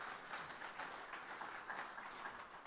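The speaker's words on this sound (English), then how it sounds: "Let's give them a round of applause for getting us started this morning." A church congregation gives a warm round of applause to the bluegrass band at a Sunday morning service, a steady soft wash of many hands clapping together, heard somewhat distant and faint.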